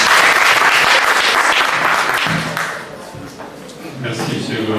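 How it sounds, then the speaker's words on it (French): Audience applause at a French medical interns' association gathering: a broad wash of clapping fills the room, then thins and fades while a voice begins talking near the end. "des applaudissements pour"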